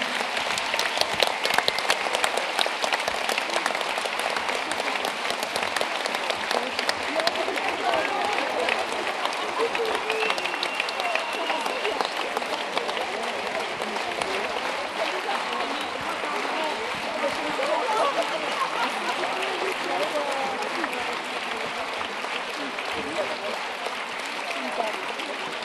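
At the 2019 Assises in Chalon-sur-Saône, an audience gives the organising group on stage sustained, fairly loud applause that runs about twenty-five seconds, tapering slightly, with a faint murmur of voices mixed into the clapping.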